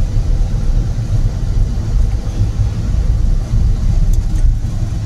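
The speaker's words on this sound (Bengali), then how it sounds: "হালকা অ্যাক্সেলেটার দাও, দিয়ে সেকেন্ড গিয়ার" A car engine rumbles steadily and loudly from inside during a driving lesson, pulling with light throttle while shifting into second gear, a constant low drone with no clear pauses.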